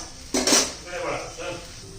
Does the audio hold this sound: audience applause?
no